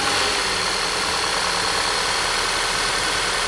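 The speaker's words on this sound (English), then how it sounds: "We're gonna go ahead and fire the car up," A 2015 VW Tiguan SE engine idles steadily after a tune-up, a smooth, even mechanical hum with no revving and no voices over it.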